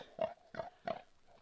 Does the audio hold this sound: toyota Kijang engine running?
no